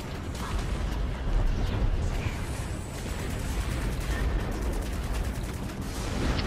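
Explosions and gunfire from the space combat game Strike Suit Zero, a dense, continuous roar of blasts and shots running loud throughout with no pauses.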